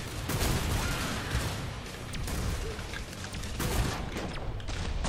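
Gunfire in the video game Killing Floor 2 comes as rapid, dense bursts of shots with booming low-end thumps, loud and continuous across the span.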